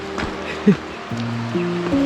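A mountain stream, the Sita Gangula on the Kuruwita–Erathna trail to Sripada, rushes in a steady broad wash while people talk over it nearby.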